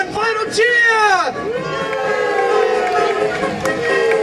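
A crowd lets out a final cheer, with loud rising and falling whoops and shouts that blend into a sustained, close-up roar.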